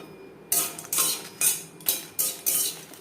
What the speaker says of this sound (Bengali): শুকনো খোলায় দু তিন মিনিট লঙ্কা হালকা করে ভেজে নেব